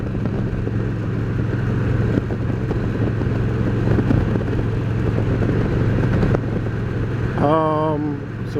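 Motorcycle cruising on an interstate highway with the rider shifting gears: a steady, loud engine drone mixed with heavy wind rush. A brief change in pitch comes near the end.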